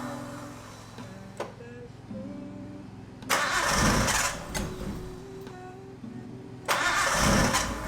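A Nissan R32 Skyline with an RB20 engine fitted with an RB25 turbo cranks and fires for its first start, with whirring cranking giving way to two loud bursts of rough engine noise.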